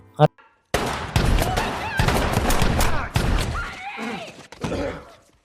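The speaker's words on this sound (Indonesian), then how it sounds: "Dan terlihat Henry sedang turun ke bawah dan terjadilah baku tembak." Rapid bursts of gunfire crack back and forth in loud clusters, mixed with shouting voices and a brief sharp bang at the start, from a gunfight scene in the film The Purge (2013).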